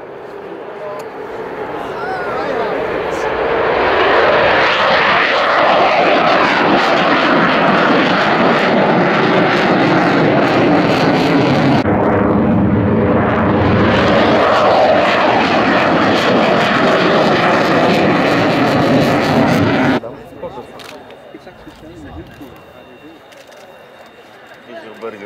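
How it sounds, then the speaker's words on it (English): Loud aircraft engine roar from Eurofighter Typhoon jets and a KC-767 tanker flying an air-to-air refueling display at the RIAT air show, building to a sustained powerful rumble for about fifteen seconds before cutting to a quieter, distant hum. "Impressive machine, the KC-767."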